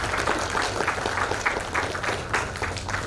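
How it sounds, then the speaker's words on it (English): Dense applause fills a conference hall at an inaugural session, welcoming a speaker to the dais with a continuous crackle of clapping over a low room hum. "Please welcome him with a round of applause."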